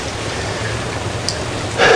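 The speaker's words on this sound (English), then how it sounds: "the rain's let up a little bit, but it's been raining solid all day long" Steady rain pours during a storm after a full day of downpour, with water flooding partway up the front yards. It makes a constant broadband hiss that swells briefly louder near the end.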